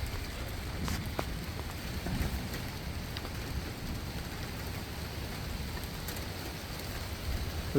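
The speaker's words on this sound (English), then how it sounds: "The rain is crazy all of a sudden though." Big, cold raindrops falling steadily on surfaces outside a porch, a continuous dense patter with occasional sharper splashes and no voices.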